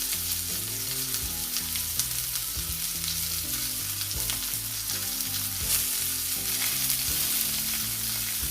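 A rib eye steak fries in a pan with a continuous close sizzle and crackle, steady and dense throughout, with no talking.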